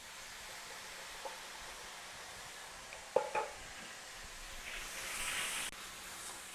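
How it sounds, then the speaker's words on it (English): Currants, chickpeas and canned tomatoes stirred into a hot pan for a vegetable tagine, a faint steady sizzle broken by a few soft scraping clicks and a brief rise in hiss. "Give it a good stir."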